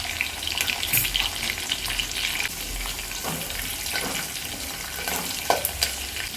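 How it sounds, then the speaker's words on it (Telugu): Chopped onions sizzle and fry in a pan for mutton biryani, a dense, steady crackling hiss close up with occasional stirring scrapes and no talk. "ఫ్రై అవుతున్నాయి కదండి."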